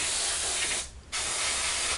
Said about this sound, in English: So we'll just spray down the sides a little bit.